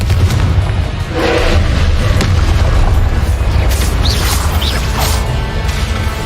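A Confringo spell explosion in a Hogwarts video game, loud booming blasts and crashing over a heavy rumbling background, with several bursts in quick succession.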